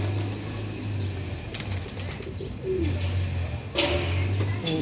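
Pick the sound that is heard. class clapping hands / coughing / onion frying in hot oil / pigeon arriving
pigeon arriving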